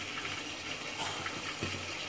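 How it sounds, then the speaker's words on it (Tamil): Oil pours briefly into a small pan while a Tamil-style masala is prepared, a soft, close trickling stream over faint background noise. "கொஞ்சம் எண்ணெய் ஊற்றிக்கலாம்."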